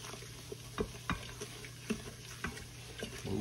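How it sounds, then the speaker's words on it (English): Oxtails brown in a pot for a tomato-based braise, a low steady sizzle broken by repeated soft scrapes and knocks as the meat is moved around, quiet and with no talking. "Just kind of brown it up there."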